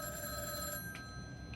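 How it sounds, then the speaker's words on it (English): A telephone rings in a classroom-style recording, its steady electronic tone sounding over constant background hiss, with faint clicks after it and no talking. "Sorry about the phone."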